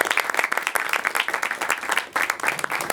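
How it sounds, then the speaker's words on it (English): An audience at a meeting applauds a speaker after his presentation, with loud, dense and continuous clapping close by that holds steady throughout and dips only briefly. "a round of applause to José Oliveira"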